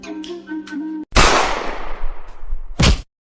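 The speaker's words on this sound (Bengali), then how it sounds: "কথা বলা শেষ না হতে গুলি মারছো" Gunfire in a Bengali comedy film scene: after a brief musical tone, a loud sharp bang rings out with a long fading tail, then a second short blast follows.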